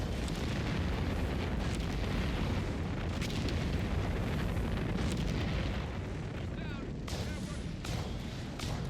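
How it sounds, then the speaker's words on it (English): Stuka dive bomber strike explosions in Company of Heroes 3 on a woodland crossing map: a continuous dense rumble of blasts and gunfire with sharp bursts layered over the din. "Here comes another Stuka strike, I assume right here."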